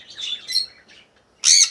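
Budgerigars in an aviary give a few quick, bright chirps close by, ending in a louder squawky call, with short gaps between them.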